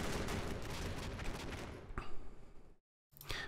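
Machine gun fire in the wartime strategy game Combat Mission: Black Sea, a faint, dense rattle of rapid shots that thins out, stops briefly in silence, then resumes with another short burst.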